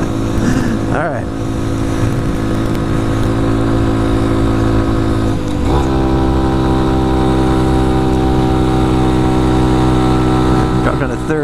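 A Honda Grom motorcycle engine drones loud and steady while riding, with brief pitch sweeps as it shifts down to third gear for a corner and a hill.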